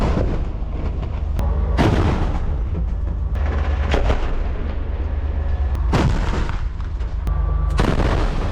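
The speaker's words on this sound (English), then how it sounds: "they have been continuously bombing homes and buildings" Bombing in an urban war zone comes through as repeated heavy explosions and sharp blasts over a constant low rumble, several bursts landing close together, loud and without any talking.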